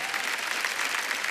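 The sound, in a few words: audience applause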